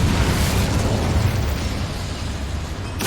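Incendio fire spell cast in Hogwarts Legacy, a dense, steady roaring whoosh of flame that holds loud for about three seconds with no voices.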